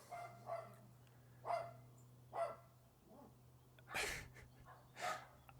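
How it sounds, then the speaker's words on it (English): Several dogs bark in separate short bursts, roughly six barks spread across the stretch with pauses between them, nearby but moderately quiet, alongside a faint steady hum. "Just wait for the dogs to calm down."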